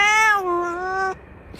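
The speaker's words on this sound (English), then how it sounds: "What are you doing, cat?" A single cat meow, a clear drawn-out tonal call of about a second that rises slightly then falls, close and fairly loud, followed by brief quiet rustling.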